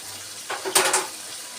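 Water poured into a pan of achari baingan masala with yogurt over a low flame, a brief hissing splash and sizzle that rises and fades within a second.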